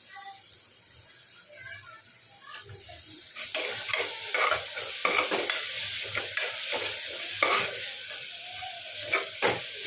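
Ginger garlic paste with curry leaves crackles in hot oil for a cauliflower potato kurma, starting quieter then growing into a loud, dense sizzle broken by repeated spatula scrapes, with brief faint speech.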